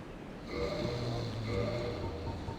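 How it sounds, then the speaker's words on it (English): Someone snores faintly in the background, with low, droning breaths repeating at a slow, steady pace under a quiet hum. "we can hear a certain somebody snoring in the fucking background"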